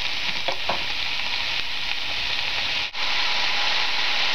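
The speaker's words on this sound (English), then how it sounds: "now I'm just going to put it in the hot pan and sort of let some of the liquid come out by cooking it a little bit." Mushrooms sizzle and fry in a hot pan for risotto, a loud continuous hiss with occasional stirring movements, close up and without talk.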